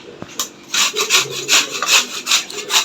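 Carrots are rubbed by hand across a metal grater on a kitchen counter, giving a quick run of about ten rhythmic, raspy scraping strokes, close and clear, with no voices.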